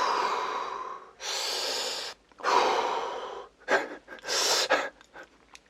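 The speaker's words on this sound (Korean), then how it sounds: "일단 받아봤더니 아주 이상한 숨소리만 들립니다." Strange, heavy breathing heard over a phone call, with long raspy inhales and exhales followed by quicker, uneven gasps and snorts, close and alone with no talk.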